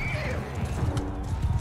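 Steppe horse in the game Mount & Blade II Bannerlord whinnies over a quick patter of hooves, close and fairly loud, with someone talking faintly in the background.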